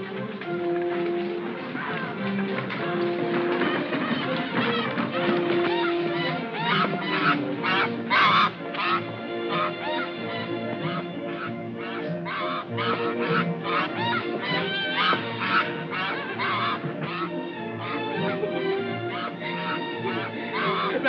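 A goose honks repeatedly in a bright, clipped run of calls in a 1942 German feature film, heard through an old narrow-band soundtrack with some voices around it.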